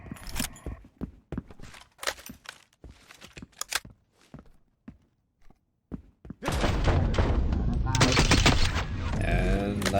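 Sharp, loud M4 rifle shots in the Transience Killhouse video game, fired as a string of separate cracks with brief gaps, then a continuous roar of heavy firing and impacts near the end.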